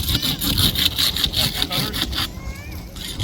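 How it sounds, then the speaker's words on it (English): Rapid back-and-forth strokes of a saw grinding through car window glass during a vehicle extrication demo, close and loud, stopping near the end, with voices faintly in the background. "he's making a hole for the saw to start, so then you can get edge and start sawing away"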